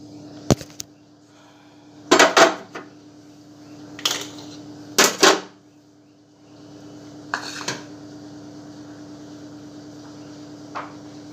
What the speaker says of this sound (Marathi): मैत्रिणी भांडी लावते आहे